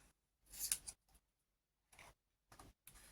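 Scissors cut fabric for a shirt pocket in a few short, crisp snips separated by pauses, close and clear with no talking.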